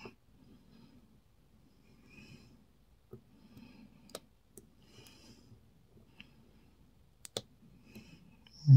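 Small, sharp clicks from lock picking on a padlock held in a vise come at irregular intervals, quiet and close, over a faint background with soft breathing.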